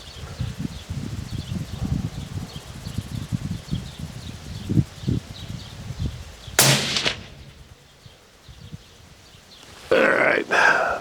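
A suppressed Springfield Armory 2020 Heatseeker rifle fires two loud, sharp reports several seconds apart at a target range, with soft rustling and handling noise between the shots.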